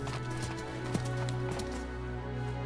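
Horse hooves clip-clopping in the video game Dynasty Warriors 8, a steady rhythmic trot of several hoofbeats mixed with a sustained musical game soundtrack.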